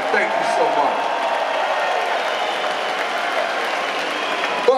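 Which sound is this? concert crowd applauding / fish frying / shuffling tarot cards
concert crowd applauding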